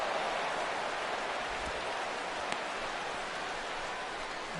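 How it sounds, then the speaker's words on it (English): Steady rain falls in a baseball video game, a continuous broadband hiss with a couple of brief faint taps, even and moderately loud throughout, with no talking over it. "This may have something to do with the rain that's falling out there."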